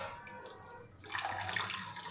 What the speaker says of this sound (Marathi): आणि अजून आपल्याला गरम पाणी घालायचं आहे।